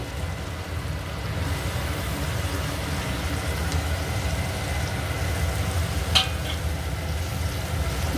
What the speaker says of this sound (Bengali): এবার আমি যে বেগুনটা আমি হাতে করে চটকে রেখেছিলাম ওটা দিয়ে দেবো